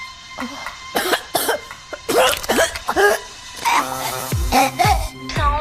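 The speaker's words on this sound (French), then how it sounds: "une violente quinte de toux la saisit." A violent coughing fit: a rapid series of loud, harsh coughs and throat-clearing bursts, close up, with strained gasps between them.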